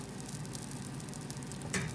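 Turkey and mushrooms sautéing in a pan give a soft, steady sizzle, fairly faint, with a brief sharper stir or clatter near the end.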